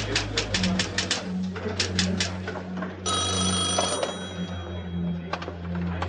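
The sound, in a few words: telephone ringing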